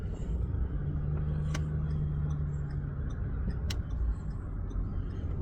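A 2011 Ford Territory 2.7L V6 turbo-diesel crawls along in limp mode, giving a steady close low rumble with a faint droning hum and two sharp isolated ticks, with no voices.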